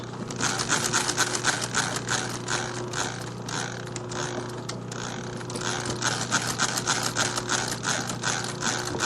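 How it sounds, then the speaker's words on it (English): A sewing machine runs steadily while stitching embroidery underlay, giving a fast, even mechanical clatter of needle and gears over a low motor hum, close and moderately loud with no voices. "So it looks like you're putting in underlay stitches"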